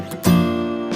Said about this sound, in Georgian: კი, გიტარის ხმა.